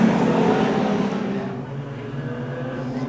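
Modified sedan race cars roar around the top turn of a race track, a steady, loud, layered engine drone that eases slightly after the first second and carries on without pause.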